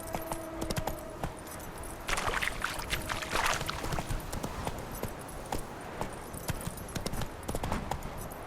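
Roach the horse trotting in The Witcher 3, hooves clip-clopping in a steady rhythm with jingling tack, moderately loud against a dense outdoor ambience.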